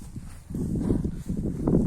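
Hooves of an Oleksandrivska mare clip-clopping at a walk, a steady run of dull, close thuds on hard ground with no talking.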